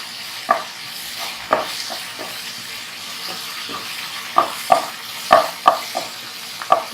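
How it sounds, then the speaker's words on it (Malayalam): Green chillies fry on a high flame with a steady sizzle, while a utensil stirs and scrapes the pan in irregular clinking taps, close and clear. "ഇനി നമുക്ക് പച്ചമുളക് ഇട്ട് കൊടുക്കാം. ഹൈ ഫ്ലെയിമിൽ വേണം ഇത് കുക്ക് ചെയ്തെടുക്കാൻ."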